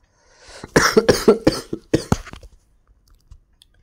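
A person coughs in a close burst of about seven harsh, rapid coughs over roughly two seconds, then it falls almost silent with faint traces afterward.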